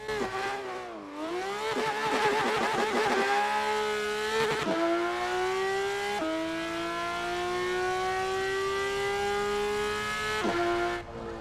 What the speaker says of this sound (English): This is the PDK sound mod, and it sounds sick.